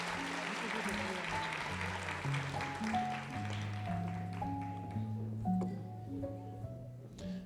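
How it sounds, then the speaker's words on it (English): Audience applause for nursing students at a college white coat ceremony fills the hall steadily, with sustained tones from music or a sound system running under the clapping throughout. "let's give a round of applause for our N3 Bachelor of Science Lambeth students"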